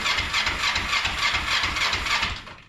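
A Kawasaki Ninja 500R motorcycle engine cranks over on the starter without fuel, giving a steady rhythmic churning with regular low pulses. It stays close and loud throughout, never catching, then tails off at the end with no voices.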